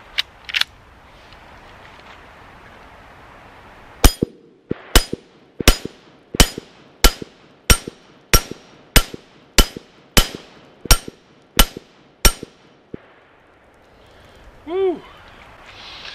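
Kel-Tec CMR-30 rifle firing CCI Maxi Mag rounds: about a dozen sharp, loud shots in a quick, steady string, followed by a short quiet tail and a faint ringing at the end.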